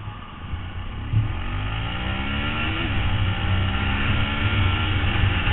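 A Yamaha WR125X 125cc motorcycle accelerating from a standstill to 40, its engine note climbing through rising, shifting tones, loud and close, with no voices.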